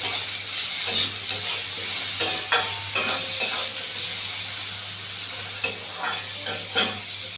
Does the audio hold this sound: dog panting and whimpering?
no